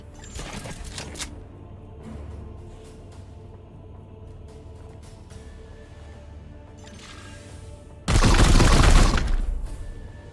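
Bolter gunfire in the video game Chaos Gate: Daemonhunters: a short crackling burst at the start, then a quiet stretch, then a loud, dense volley of rapid shots near the end.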